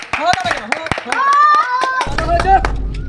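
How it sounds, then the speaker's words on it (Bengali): An audience breaks into loud, steady clapping after a folk song at a small Ekushey February gathering, joined partway through by a continuous low rumble, with voices heard over the applause. "ওনার গানটা অনেক সুন্দর, সবাই হাততালি।"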